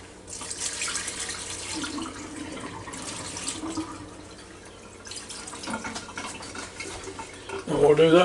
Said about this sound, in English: So I'm going to wash those off real good.